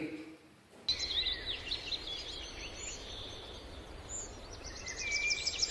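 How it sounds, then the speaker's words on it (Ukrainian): Several birds chirp and trill continuously in bright, high tones, overlapping one another outdoors, moderately loud and steady throughout. "Послухайте, діти, як радіють весні птахи."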